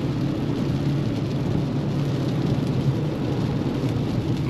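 Inside a 2016 Toyota RAV4 hybrid on the move, a steady, loud low rumble of road and engine noise fills the cabin evenly with no voices.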